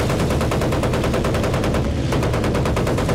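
Dense, continuous automatic gunfire from a Battlefield 1943 match, rapid loud bursts rattling without pause across the whole stretch, with no talk over it.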